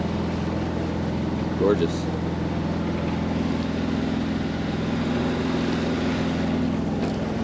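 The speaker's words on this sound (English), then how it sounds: "We're just motoring out of the bay" A sailboat motors out of a bay under engine power, its steady low drone and hum running throughout beneath a brief spoken remark.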